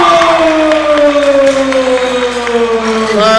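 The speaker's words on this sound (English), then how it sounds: "Loud crowd for platform 1 there" A loud arena crowd roars steadily at a women's 47 kg powerlifting competition platform after a strong bench press, with a sustained tone running beneath the crowd.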